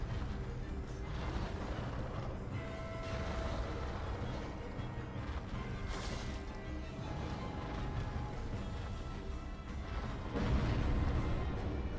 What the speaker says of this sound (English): I really don't like that stupid explosion attack.